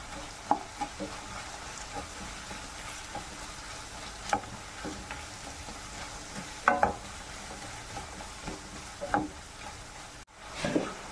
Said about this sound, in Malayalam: ചെറിയ ഉള്ളി അരിഞ്ഞത് ഇടാം പെട്ടെന്ന് വഴന്ന് വരാൻ ഇച്ചിരി ഉപ്പൊന്നിട്ട് നല്ലവണ്ണം വഴുത്തിയെടുക്കും